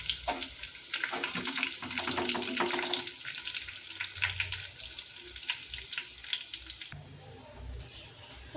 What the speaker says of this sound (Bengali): যেহেতু এখানে পেঁয়াজগুলো একদম ঝুরি ঝুরি করে দেওয়া থাকে, তাই এগুলো ভাজতে একদমই খুব বেশি সময় লাগবে না।